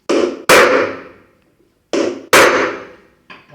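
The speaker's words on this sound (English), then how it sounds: "While driving in the bearing, you should be careful so that the hammer doesn't beat your hand." A hammer drives a bearing into a washing machine, landing four hard metallic strikes in two pairs with ringing decay, and a lighter tap at the end, close and loud with no talk.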